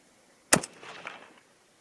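A single sharp .224 Valkyrie rifle shot fired with a 62-grain ELD-VT bullet cracks loudly and close, then trails off in a short echoing rumble across an outdoor range.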